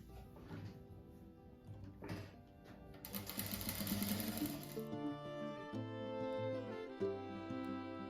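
A sewing machine stitches cotton quilt blocks together for a simple patchwork rug, its motor whirring in close, steady runs that speed up and pause between seams, with no talking.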